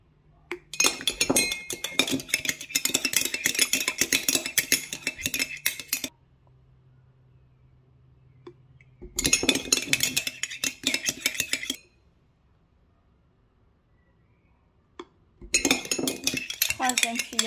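A spoon clinks and scrapes against a bowl while stirring a vinegar and oil salad dressing, in three bursts of rapid close metallic clatter separated by quiet pauses.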